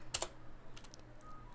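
Several quick keystrokes on a computer keyboard while scripting, a tight burst of clicks near the start followed by a few softer, scattered taps, close and alone with no talking.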